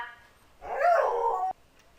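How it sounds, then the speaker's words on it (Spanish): A dog gives a single drawn-out, whining bark lasting about a second, fairly close and alone against a quiet room. "otra vez mi perro, aquí está."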